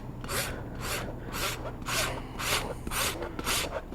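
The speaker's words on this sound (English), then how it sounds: "I have slight flare here, so I'll rasp from the top down" A farrier rasps the flare off a horse's hoof, top down, on a mare newly out of shoes: eight even, rhythmic rasp strokes, each a bright scraping pass about half a second apart, close and fairly quiet.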